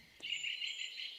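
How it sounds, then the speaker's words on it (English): In a summer forest, a single high, sustained trill rings out faintly and at a distance against otherwise quiet surroundings. "we stay here for a couple of minutes just listening to the birds"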